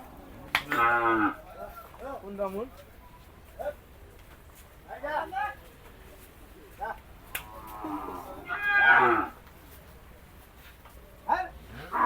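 Cattle moo loudly several times at irregular intervals at Gabtoli cattle market, long drawn-out calls close by, with quieter gaps and some background voices.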